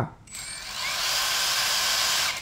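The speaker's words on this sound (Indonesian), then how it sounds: "ini putarannya akan lambat terlebih dahulu untuk penetrasi skrup ya" Cordless impact driver driving a screw, starting slow and then spinning up into a steady high-pitched whine that holds for a couple of seconds, close and clear with no talk.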